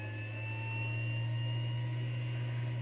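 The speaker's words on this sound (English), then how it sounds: "Wait for the turbine engine in the hard drive to fire up." A steady mechanical whine and low hum hold at a constant pitch, a continuous whirring drone with no voices, from an old hard drive spinning up in an Amiga 2000 computer.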